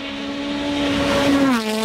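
A blue toy race car with a race car engine sound, a steady high whining engine note that rises and then bends downward near the end, heard alone.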